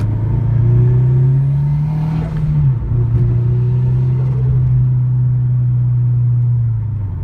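A turbocharged Toyota 86 with an aftermarket turbo kit drones loudly from inside the cabin under throttle, holding a steady engine note that briefly dips with a gear change and then climbs again, with no talk over it.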